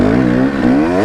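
An off-road vehicle revving hard in second gear as it heads down a steep hill, a loud, close engine roar with rising and falling pitch over one second.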